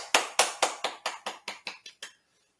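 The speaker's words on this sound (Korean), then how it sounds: "모든 영광을 하나님께 박수로 돌려드리겠습니다" A Korean church congregation gives ten sharp, evenly spaced claps in a steady rhythm that stops abruptly, leaving a moment of silence.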